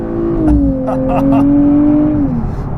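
A 2024 Nissan Z NISMO engine revs hard, its pitch climbing and holding high before dropping, with a voice talking over it.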